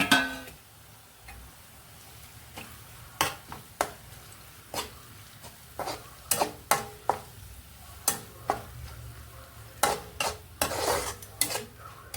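Ginger and green chili paste fries in a pan under a low hiss, punctuated by frequent sharp clicks and scrapes of a spoon stirring against the metal.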